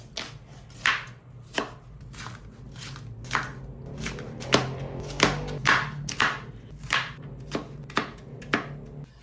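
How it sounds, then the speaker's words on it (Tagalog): A knife chops onion, lettuce, cucumber and tomato on a cutting board for a tortilla wrap, with sharp, close, irregular thwacks in quick bursts and no speech. "Hiniwa ko lang lahat yan ng maliliit."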